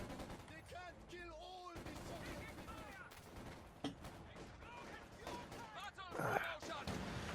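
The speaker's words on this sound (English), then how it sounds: "Taking some pot shots at the retreating men." Rapid gunfire from infantry squads in the real-time strategy game Company of Heroes 2, with scattered shots and bursts running steadily through a busy battle soundscape under voices.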